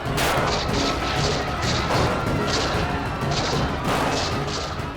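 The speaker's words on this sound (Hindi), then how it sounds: "ये अचानक गोलियों की आवाज कैसे आ गई?" Rapid, repeated gunshots crack out in loud bursts, one volley after another, with no talking, in a TV drama.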